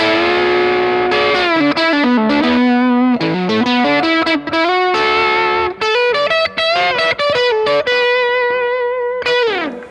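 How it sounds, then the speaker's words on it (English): An electric guitar plays a melodic line through a Keeley Electronics Monterey fuzz pedal, thick and saturated, with sustained distorted notes ringing loud and close. "you have this nice, warm fuzz. It sounds like this."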